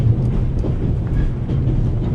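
Steady rumbling train interior noise from The Raven, a point-and-click adventure game, with a continuous low mechanical drone and faint rattling, loud and unbroken throughout without talk.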